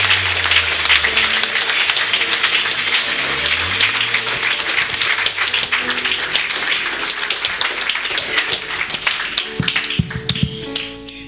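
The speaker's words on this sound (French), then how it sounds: "j'aimerais qu'on acclame le Seigneur pour son serviteur, le pasteur Valérie Kabamba" A church congregation applauds for pastor Valery Kabamba, a dense, steady roar of many hands clapping and tapping close by, holding loud throughout with scattered voices and music underneath, thinning slightly toward the end.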